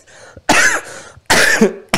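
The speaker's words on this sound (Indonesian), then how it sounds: "Itu batuknya batuk aneh." Two loud, harsh coughs close to the microphone, each with a short rasping tail, separated by a brief pause and a softer breath, with a third cough beginning at the end.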